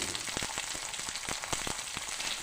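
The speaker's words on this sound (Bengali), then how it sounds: "তেলটা খুব ভালো গরম হয়ে গেছে, তার উপরে আমি বিনস এরকম লম্বা লম্বা করে কেটে রেখেছিলাম দিয়ে দিলাম" Long-cut green beans fry in a wok of very hot oil, giving a loud, dense and steady sizzle with crackling pops throughout and no talk.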